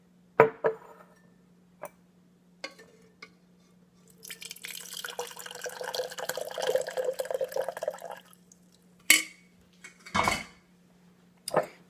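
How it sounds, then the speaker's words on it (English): Amber madrone bark tea poured into a glass, a few seconds of steady close liquid flow framed by sharp clinks and knocks of glassware and utensils before and after. "And let me pour a little bit into a glass so you can see the color."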